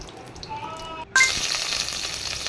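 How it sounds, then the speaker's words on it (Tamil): Mustard seeds and curry leaves hit hot oil in a pressure cooker, setting off a sudden loud burst of sizzling and crackling after a quiet moment. The fry then holds steady and close. "எண்ணெயில் கடுகு தாளிப்புக்கு தேவையான கடுகு கருவேப்பில்லை போட்டுக்குவோம்"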